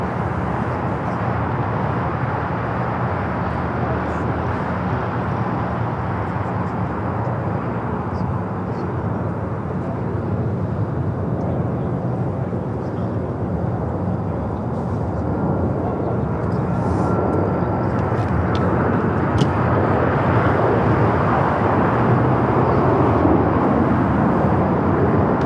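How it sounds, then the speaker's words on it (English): A United Airlines Boeing 737 MAX 8 departs from LAX runway 25 right, its jet engines a loud, sustained broadband roar that swells slightly toward the end, with no voices. "That is United Airlines 1990 taking off to Austin, Texas on the MAX 8."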